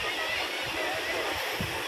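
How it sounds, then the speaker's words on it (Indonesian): Ocean waves wash onto the shore at Kuta Beach, Bali, under an overcast morning sky, a steady close rush of water with a voice speaking over it. "Wah, ombaknya"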